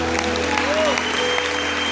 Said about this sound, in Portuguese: Podemos dar a Jesus mais uma linda salva de palmas?